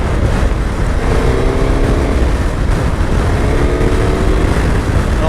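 A Suzuki GSX-S1000GX sport tourer accelerates hard in A mode, its engine note droning loud and continuous from up close with a rising harmonic whine and steady wind rush, no talking.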